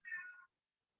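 A single short cat meow, close and clear, lasting about half a second before silence.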